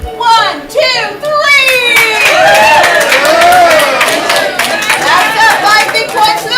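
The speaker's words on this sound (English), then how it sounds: "vote with your whoppers and with claps and cheers" A live comedy-improv audience erupts in loud, sustained cheering, shouting and clapping that swells and holds for several seconds, with many children's voices prominent in the crowd.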